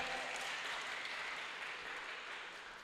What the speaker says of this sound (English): a round of applause for the man of the night